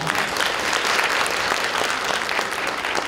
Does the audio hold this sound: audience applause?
yes